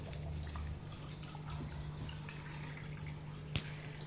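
Water is poured into a pineapple and orange kanji with orange peel, jaggery and chilli, a soft, continuous, low-level trickle with a faint hum underneath and one brief knock near the end.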